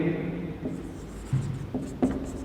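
Chalk or marker strokes on a board during a physics lecture on vector analysis, a few short scratchy taps and strokes over a steady low room hum, fairly close.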